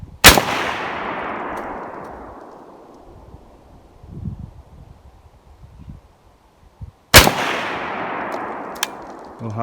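Two sharp, loud rifle shots from an Arsenal SLR107FR fired outdoors at a target around 100 yards away, each crack followed by a long fading echo, with quiet shuffling and wind between them.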